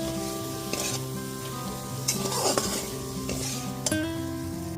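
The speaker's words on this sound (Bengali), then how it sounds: "এরপর এর মধ্যে দিয়ে দিচ্ছি হাফ বাটি পরিমাণ মটরশুঁটি। মটরশুঁটিটা দিয়েও খুব ভালো মতো একটুখানি মিশিয়ে নিচ্ছি।" Green peas being stirred into a spice mix frying in a pan for a cauliflower and potato dish, a loud steady sizzle with a few distinct scraping strokes and a clink of the spatula; no voices.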